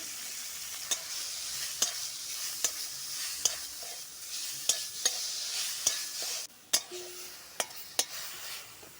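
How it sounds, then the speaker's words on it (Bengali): Gima greens frying in hot oil in a wok, a steady close sizzle with sharp regular clacks of a spatula stirring against the pan roughly every second. "কড়াই গরম করে তেল দিয়ে গিমা শাকগুলোকে তুলে দিলাম একটু ভেজে নেব"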